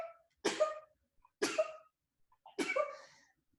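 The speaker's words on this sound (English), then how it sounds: "Very dainty sneeze." Three short, light sneezes spaced about a second apart, close and clear in a quiet room, each a quick breathy burst, with the last slightly longer.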